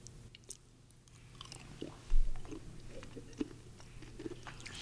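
Gum and habanero hot sauce being chewed up close, with soft wet crunching and mouth sounds coming in uneven bursts over a low steady background hum.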